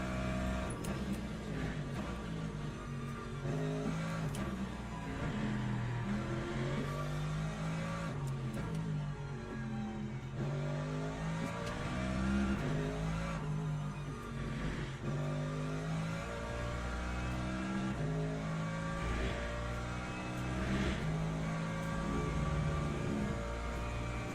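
A race car engine in the video game Le Mans Ultimate runs through a tyre warm-up lap, droning continuously with rising and falling revs and repeated upshifts and downshifts, with no talking.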